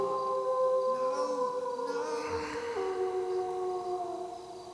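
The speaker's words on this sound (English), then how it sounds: "That was just a dog howling." A dog's long, drawn-out howl in a video game wavers and slides in pitch over a steady droning tone, eerie and sustained, with no talking.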